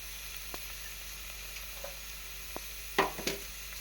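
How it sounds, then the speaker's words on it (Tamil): Vadagam, sun-dried seasoning balls, fry in oil for a Tamil kara kuzhambu, giving a faint, even crackling hiss with a few tiny pops, then a brief louder clatter of stirring near the end. "வடகம் வந்து நல்லா பொரியுது"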